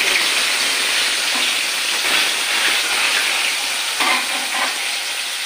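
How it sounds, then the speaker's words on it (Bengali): Marinated chicken pieces fry in hot oil, giving a loud, steady, close sizzle with a few sharper crackles and spatters, no talking. "খুব বেশি ভাজবো না, একটু ভাজবো মিডিয়াম"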